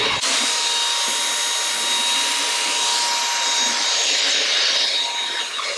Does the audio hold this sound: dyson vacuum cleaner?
yes